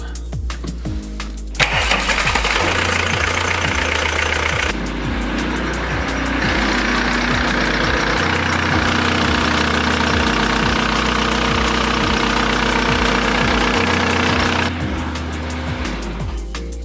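A diesel engine of a VW Passat runs close by, loud and continuous, with a rough, knocking idle and a steady low rumble that shifts slightly in tone partway through.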